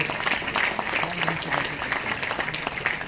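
A hall audience at a public function in Aurangabad breaks into steady, close applause that continues for a few seconds without pause.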